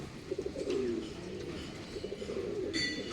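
Pigeons coo nearby in soft, throaty, rolling calls repeated through the moment, with someone speaking over them and faint background chatter.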